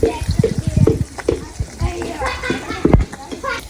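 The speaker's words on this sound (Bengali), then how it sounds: "মাছ ভাজা হয়ে যাইতেছে" Fish frying in a pan during village cooking, a soft crackling sizzle running underneath people talking nearby.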